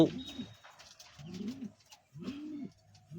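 Brown Lakkha pigeons coo close by in a loft, three distinct rolling calls spaced about a second apart against a quiet background.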